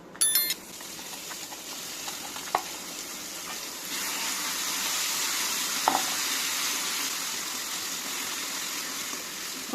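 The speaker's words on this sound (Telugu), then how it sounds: "ఇప్పుడు మనం పుదీనా మిక్సీ పట్టుకున్నది వేసుకుందాం." Ground mint paste hits a hot pan of oil tempered with cumin, dried chillies, sesame and curry leaves for pudina rice, and a steady, close sizzle builds and holds, broken by a few faint utensil clinks.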